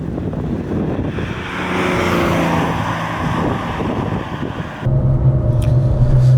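A Porsche 993, the last air-cooled 911 and an Outlaw build, drives with its engine running steadily as it warms up, a continuous drone mixed with wind noise that grows heavier and louder near the end.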